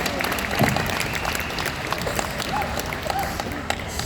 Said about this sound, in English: Give every woman in this room, my wife, to everybody a big round of applause